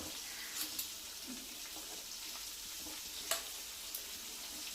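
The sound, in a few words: KFC-style chicken legs frying in oil on low flame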